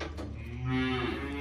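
A cow with a horn recently trimmed, mooing indoors in a barn, one drawn-out low moo that swells midway and trails off, fairly close with no talk.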